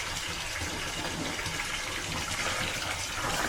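Hot water pours and splashes steadily while a cat is being bathed with cat shampoo, a continuous close gush of running water with no pauses.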